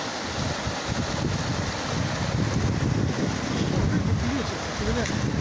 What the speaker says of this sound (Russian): Ты смотри, а. Течение бурное какое.